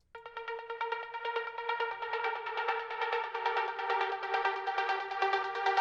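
Two synth leads from Serum and Spire play the same layered melody in a trance track, a bright sustained tone with quick repeated notes that swell slightly louder as it goes, with no voices.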